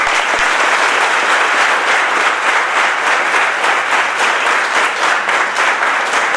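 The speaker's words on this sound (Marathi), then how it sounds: "लेखकांसाठी आपण टाळ्यांचा प्रचंड गजर करा." Audience breaking into loud, sustained applause for two authors at a book event, a dense, even roar of clapping that holds strong throughout with no voices over it.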